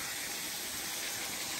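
Water rushes steadily and evenly at the base of a waterfall on the Mulberry River in the Ozark National Forest, heard up close as a constant wash.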